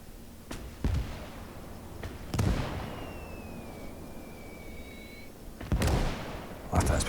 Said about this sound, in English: mortars are so inaccurate, aren't they?